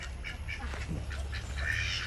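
Ducks quack in a scattered cluster close by, several short nasal calls overlapping against a low background rumble.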